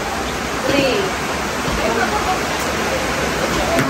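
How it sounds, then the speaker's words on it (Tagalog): Heavy rain pouring steadily in Mindoro, Philippines, a dense, continuous wash of hiss with no breaks, with faint voices and children's chatter mixed under it. "ang lakas ng ulan"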